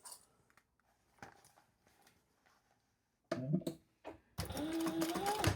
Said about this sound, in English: So now we're just going to stitch across the top, and then we're going to trim it